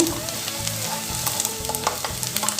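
Onions sauté in a pan, giving a dense, continuous sizzle with repeated scraping and clattering as a spatula stirs them, close and fairly loud, with no talking.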